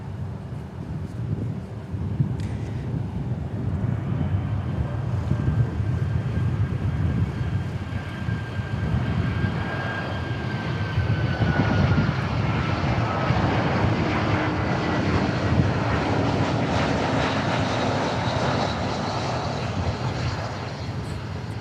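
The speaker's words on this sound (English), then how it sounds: "Emirates going to the east side to take off back to Dubai." An Emirates airliner takes off at a busy airport, bound for Dubai, its engines roaring in a loud, steady, broad rumble with rising whine that holds strong for the whole stretch, wind buffeting the microphone.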